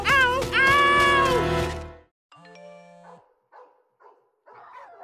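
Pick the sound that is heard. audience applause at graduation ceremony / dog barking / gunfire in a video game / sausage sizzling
dog barking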